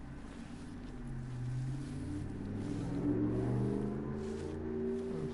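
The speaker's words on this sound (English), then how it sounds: "Sorry about the traffic noise, folks." Traffic at a busy road nearby, heard as a low, continuous engine rumble with droning tones from passing vehicles that swell and fade, fairly faint and with no talking.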